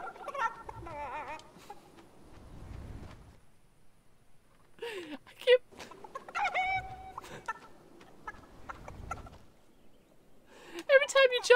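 Chicken clucking in a video game, heard in short bursts throughout under loud, excited talking, with a louder cluster of clucks near the end.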